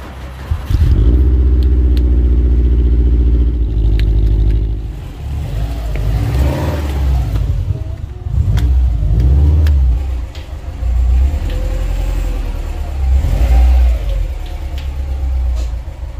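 Subaru WRX STI with a 2.5-litre engine revving hard in loud, sustained rumbling bursts, each rise in revs followed by the sharp hiss of a blow-off valve venting as the throttle lifts.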